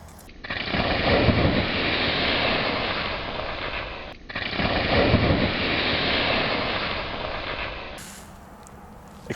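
A fire extinguisher blasts onto a raging grease fire, a loud, sustained roaring spray running about four seconds, pausing briefly, then another long burst of similar length before cutting off to quieter room noise.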